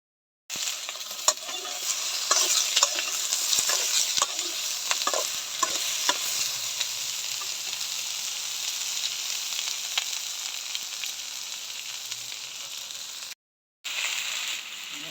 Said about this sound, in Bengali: এবার সাজনা দাঁড়া আর বাঙরটা একসাথে ভাজা নিব